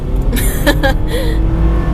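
A 2014 Subaru Legacy 2.5i engine roars as it accelerates at full throttle, loud and close, with a steady low rumble and brief higher bursts.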